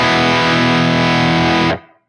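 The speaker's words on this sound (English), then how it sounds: "You can hear that also with the Tumnus, it sort of tightens the low end." An electric guitar runs through a Tumnus drive pedal into a ToneX pedal, sounding one sustained, distorted chord that rings loud and full before being abruptly choked off into silence.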